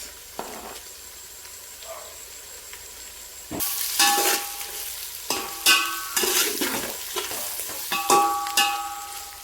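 Tomatoes with turmeric fry in a pan for egg biryani: a faint low sizzle at first, then louder bursts of spatula scraping and stirring over a steady frying hiss.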